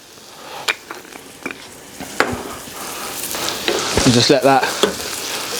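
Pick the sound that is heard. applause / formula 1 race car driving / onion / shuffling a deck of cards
onion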